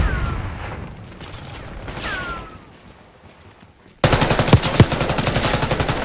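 Rapid automatic gunfire in the shooter game Black Ops 6: a quieter opening stretch, then from about the midpoint a loud, dense, continuous burst of shots with a couple of sharper cracks standing out.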